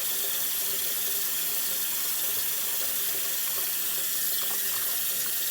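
A makeup brush rinsed under running tap water, a steady close hiss of flowing water from a faucet that continues unbroken throughout.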